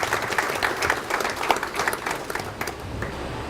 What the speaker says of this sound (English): Let's have a huge round of applause for Professor Obua